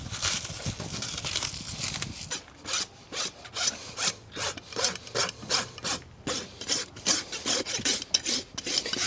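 Farrier's rasp filing down hoof pads on a horse's hoof, a fast series of close, gritty back-and-forth strokes that settles into a regular rhythm of about two strokes per second, with no talk.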